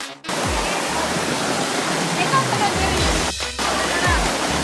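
Pulang Bato Falls at Red Rock in Valencia, Negros, roars as a loud, steady broadband rush of falling water, continuous and close, with brief low thumps from handling near the start and toward the end.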